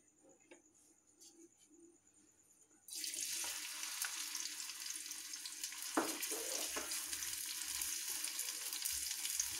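Onion is tipped into hot oil for a noodle dish: after a few quiet seconds a loud sizzle bursts in suddenly and keeps hissing steadily, with a brief clatter partway through.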